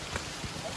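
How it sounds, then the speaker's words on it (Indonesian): Steady rain patter, soft and close, forming a continuous wash of drops with a faint thud or two underneath, falling at night on a steep climb up Mount Ijen. "Mana hujan."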